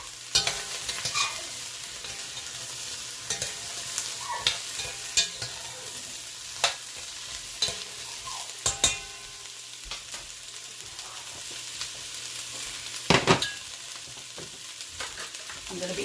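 Ginger and garlic frying in a pan: continuous soft sizzle with scattered clinks and scrapes of a utensil stirring, close and moderate in level.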